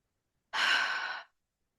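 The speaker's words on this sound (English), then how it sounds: "one of the most immediate ways that I can connect with my higher power, again, my higher power is everything outside of me, is through taking a simple, deep breath" A single deep breath, one breathy exhale lasting under a second, close and clear against silence.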